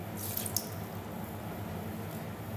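Water pours steadily into a blender jar, a soft continuous splashing trickle, close and fairly quiet with no talk.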